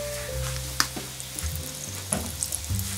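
Gyoza dumplings fry in oil in a pan over raised heat, a continuous close sizzle with scattered pops and crackles and a few brief clatters, no one speaking.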